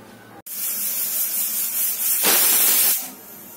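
A pressure cooker whistle goes off on a ridge gourd poda pitha, bursting suddenly into a loud, sustained hiss of escaping steam that swells midway and then eases slightly.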